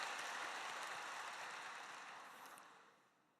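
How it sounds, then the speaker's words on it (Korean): A church congregation applauds the choir during a Sunday service, a dense, steady wash of clapping that fills the room and slowly fades away toward the end. "우리 에베네셀 찬양대에게 격려의 박수를, 하나님께 영광의 박수를 올려드립니다"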